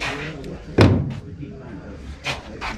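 The rear door of a Model T Ford is shut with one sharp, close slam near the middle, framed by light background noise and a brief later knock.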